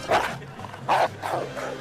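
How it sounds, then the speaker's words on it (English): A police dog barks outdoors while sent after suspects, giving three close, loud barks in quick succession. "a police dog goes to fetch the bad guys"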